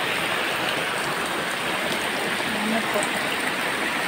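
Steady rain pours and drips through a leaky, hole-ridden roof of a poor family's house, a dense continuous patter throughout, with a brief spoken question over it.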